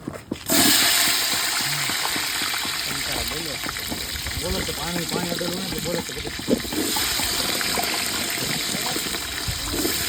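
Steady rushing water runs throughout, like liquid being poured or flowing from a tap into a whole-onion curry, with people talking over it nearby.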